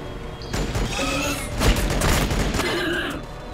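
Gunfire in the video game Battlesector: a dense, loud burst of overlapping shots and booming impacts rolling continuously for a few seconds with no pauses.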